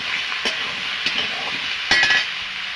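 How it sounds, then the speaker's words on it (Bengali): Cut bottle gourd frying in oil in a wok gives a steady close sizzle, broken by a few scraping stirs of a spatula against the pan, with no voices. "আমি লাউটা ভালো করে ভেজে নেব।"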